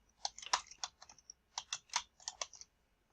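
Keystrokes on a computer keyboard come in quick, quiet bursts: a cluster of taps, a short pause, then another flurry of crisp clicks close by.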